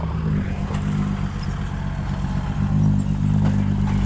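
Working hard against a dirt pile at a muddy dump-truck site, a farm tractor's engine rumbles loud and unbroken, its deep drone swelling slightly toward the end amid mechanical clatter.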